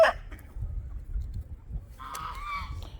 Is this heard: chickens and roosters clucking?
yes